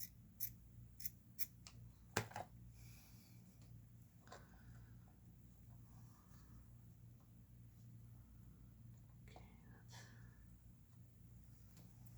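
Scissors snip material down to size for a homemade traveling altar, a few crisp cuts up close early on, then quieter handling in a soft room.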